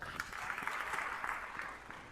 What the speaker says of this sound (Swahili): Hebu kipigie makofi kitabu cha Mwanzo.